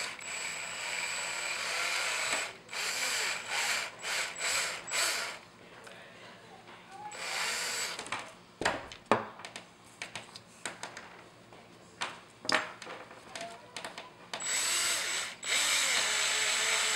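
A power drill whirs in repeated short bursts with pauses between, fairly quiet and nearby, with some faint background noise, while milling out a custom firesteel handle.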